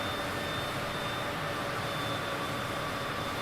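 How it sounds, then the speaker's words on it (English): A jet airliner's engines in Microsoft Flight Simulator produce a steady, loud broadband roar with a faint high whine, constant throughout, heard from inside the aircraft as power is eased back. "Hear the engine sound change."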